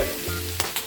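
Ham is flipped on a 36-inch Blackstone griddle, giving a brief, close burst of hot sizzle with a quick spatula scrape near the end and no talk.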